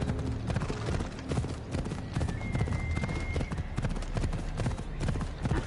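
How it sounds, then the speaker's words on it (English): Horse hooves clip-clop in a steady, busy rhythm in Assassin's Creed Odyssey, loud and continuous throughout, with a brief whinny in the middle. "I need to take this horse to either Adonis or to the stable boy."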